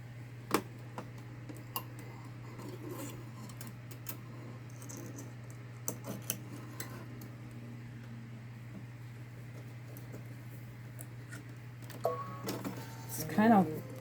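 A Babylock Solaris Vision embroidery machine stitching a design, giving a steady low motor hum with scattered light clicks and taps, and a voice breaking in briefly near the end.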